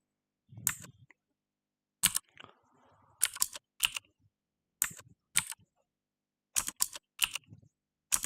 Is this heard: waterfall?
no